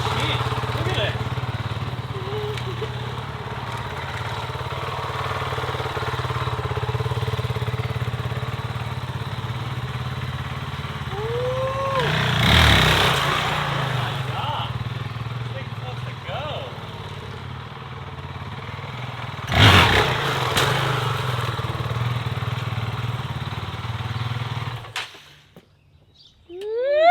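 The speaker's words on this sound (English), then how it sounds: "it idles like a cheat" A Honda CRF450L dual-sport motorcycle engine idles in a steady, close, continuous drone with a couple of brief louder surges before it cuts off near the end.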